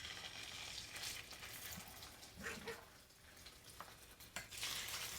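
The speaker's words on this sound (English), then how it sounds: "Listen to that sizzle." Rabbit sears in olive oil in a hot pan, a steady close sizzle with occasional crackles and scraping stirs. A dog barks faintly in the background.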